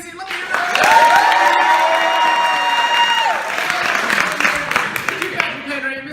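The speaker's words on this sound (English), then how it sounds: "let me hear a round of applause right now." Improv show audience clapping and cheering to vote for a team's scene, loud sustained applause with high whoops and shouting voices riding over it, gradually thinning toward the end.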